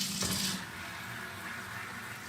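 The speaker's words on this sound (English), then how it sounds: "I'm gonna spray it. And I'm using cool water." Cool water sprayed from a bottle onto a craft stencil during cleaning, a short hissing burst at the start that fades into quiet room tone.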